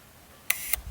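A 4x5 large format camera's mechanical shutter fires with a sharp click, then a second click about a quarter second later, crisp and close in a quiet setting.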